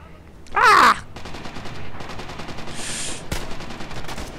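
Sharp gunshots in the World War II shooter Red Orchestra 2, a few scattered cracks over background battle noise, with a player's loud shout near the start.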